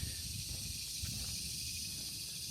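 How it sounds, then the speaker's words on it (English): Cicadas buzz as a steady, dense, high-pitched drone outdoors during the day. The sound holds constant over a low rumble of background noise, with no talking. "I guess those are cicadas"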